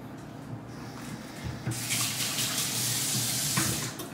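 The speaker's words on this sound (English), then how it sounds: "Wash your hands so you don't contaminate anything." Water runs steadily from a kitchen tap while hands are washed during fish preparation, a close, even rush that grows fuller and louder midway and continues to the end.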